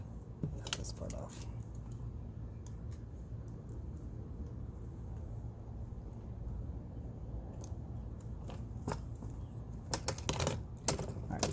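Scissors snipping through carbon fiber vinyl wrap on a Kia Stinger center console, a few sharp clipped cuts clustered at the start and end over a steady low room hum.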